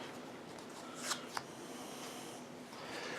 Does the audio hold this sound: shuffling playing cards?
yes